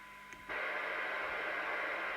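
A Danita 2000 multi UK mobile CB radio receives a signal-generator tone at 0.3 microvolt during receiver alignment. A faint steady tone sits under receiver hiss, and the static jumps louder and stays constant after about half a second.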